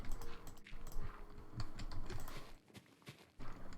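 A computer keyboard sits right beside a microphone, its keys typed in quick, irregular bursts of close, crisp clicks, with a brief pause before the typing resumes.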